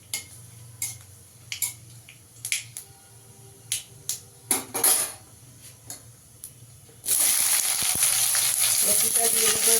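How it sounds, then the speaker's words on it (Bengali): Taro stolons drop into hot oil tempered with dried red chilli and nigella seeds, bursting into a loud, steady sizzle after a run of sharp spice crackles and pops. "ফোড়নটা একটু ভাজা হলে লতিটা দিয়ে দেবো।"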